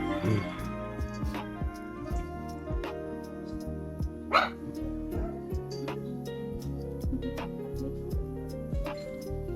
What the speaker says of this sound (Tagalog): Kulit yung aso, no?